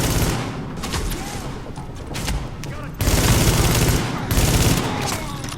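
Sustained gunfire from a hard-mode firefight at the WarrenGate Power Plant in The Division, dense overlapping bursts and shots that surge louder partway through, close and loud with a voice talking over it.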